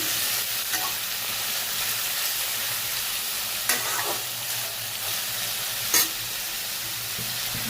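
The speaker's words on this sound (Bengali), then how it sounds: "ভাজে কালো জিরে ফোড়ন দিয়ে ভাজতে দিলাম" Nigella seeds frying in hot oil for a kochur loti dish, a steady close hiss with faint crackle and a couple of sharp utensil clinks, no one talking.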